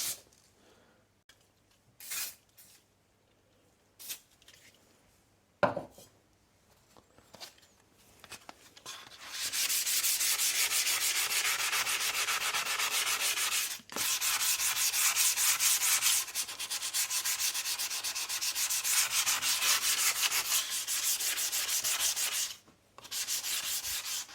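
A rusty Atkins saw blade is hand-sanded with 400-grit abrasive paper: scattered short rubs at first, then a long steady run of close, brisk scratching strokes with brief pauses.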